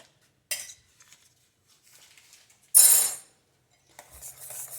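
Homemade vanilla pudding gets butter whisked in, with a few sharp metal clinks and scrapes of the whisk against the bowl separated by quiet gaps, one louder swish in the middle.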